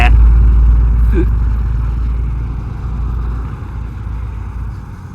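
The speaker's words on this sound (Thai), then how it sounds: "ท่อเพราะมากเลยรถแก" A car's exhaust pipe rumbles loud and deep in a steady drone that eases slightly over several seconds, heard up close at an outdoor car meet.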